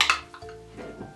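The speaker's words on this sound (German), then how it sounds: "Ich gebe jetzt den Quark noch mit hinein" Quark being added to prepared pudding in a bowl for a strawberry quark cake: a sharp utensil clink against the bowl, then soft scraping and stirring, close and brief.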